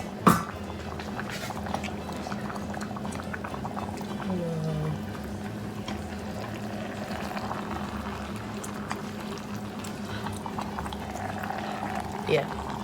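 Jambalaya liquid boils and bubbles in a pot with a continuous close, busy simmer of popping bubbles, while a person talks over it and a sharp clatter sounds at the start.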